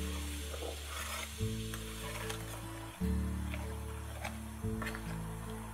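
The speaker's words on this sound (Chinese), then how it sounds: "接着放辣椒面，还是小火慢炸。" Chili powder frying slowly in oil over low heat gives a soft, steady sizzle with occasional stirring scrapes, quiet and close, against a low background hum and no talking.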